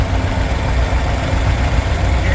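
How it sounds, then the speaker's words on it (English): A John Deere 4020 tractor engine idles at a steam power show in Sycamore, Illinois, giving a loud, steady low rumble with a faint knocking pulse that carries on throughout. "here we have Jimmy Esposito on a John Deere 4020"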